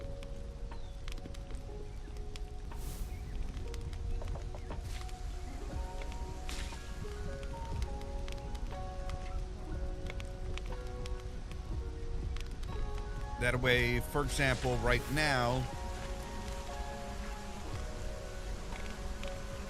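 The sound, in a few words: rain in the video game Solar Punk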